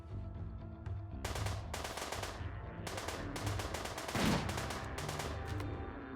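Automatic weapons fire in the RimWorld video game: dense, rattling bursts of game gunfire come in uneven volleys, loud and continuous for several seconds with no talking.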